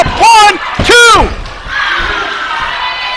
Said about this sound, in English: you can hear the crowd getting solidly behind Billy Buck